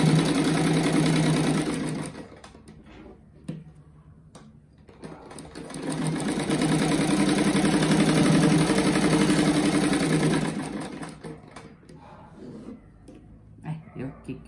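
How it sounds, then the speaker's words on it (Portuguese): A sewing machine stitches fabric for a pencil-shaped rug in two long buzzing runs, the first lasting about two seconds and the second about five, with pauses and voices in between. "só passo uma costurinha prendendo"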